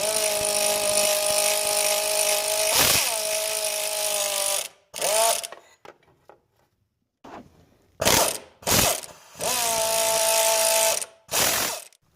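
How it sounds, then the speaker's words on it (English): A hand ratchet works loose the 12 mm bolts holding a power steering pump on an Infiniti G20 or Nissan Altima. One long run of rapid clicking is followed by several shorter bursts separated by quiet pauses, close and clear. "go ahead and get a ratchet and remove them"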